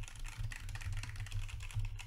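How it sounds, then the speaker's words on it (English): Key presses on a keyboard set on a desk mat, picked up by a SteelSeries Alias microphone placed in front of it, a steady run of soft close clicks and thumps with no voice. "Typing on some keys."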